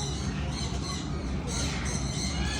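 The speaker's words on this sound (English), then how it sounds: "there's a bird." A bird squawks at a live bird show, the harsh calls steady and fairly loud against a dense crowd and ambient noise.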